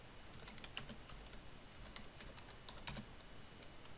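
Rapid, irregular keyboard typing, close and steady, with crisp clicks of individual keystrokes running throughout, no voices.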